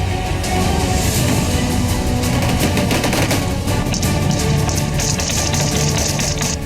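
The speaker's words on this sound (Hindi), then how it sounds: "अंधाधुंध गोलीबारी" Heavy, continuous gunfire in an urban battle between the Iraqi army and ISIS, dense bursts and rapid shots overlapping loudly and steadily throughout with no pauses.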